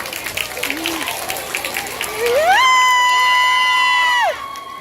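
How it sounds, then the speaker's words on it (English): Elementary school children in an assembly cheer and shout in a noisy crowd, then a long high whoop or whistle-like tone rises and holds for a couple of seconds before dropping away. "Give him a big round of applause."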